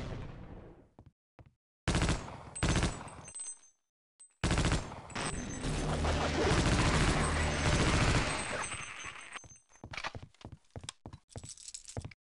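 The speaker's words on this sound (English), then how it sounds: "Imagine entering close combat and getting peppered by an LMG." Light machine gun fire in Half-Life: Opposing Force, with several loud rapid bursts separated by short gaps, then one long sustained stream of fire, followed by scattered shots that fade out.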